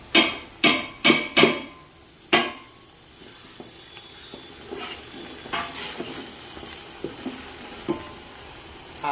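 Green onions are tossed into a pan where garlic has been cooking for a rural Gujarati tuver totha dish. A burst of sharp metal spoon clanks against the pan gives way to softer scraping and a low, steady sizzle.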